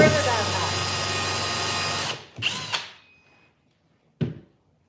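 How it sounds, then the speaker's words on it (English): An impact drill runs on old furniture with a loud, close whirring buzz that cuts off after about two seconds, followed by two brief shorter bursts of drilling or handling noise and quiet between them. "it's going to get loud again with the impact drill"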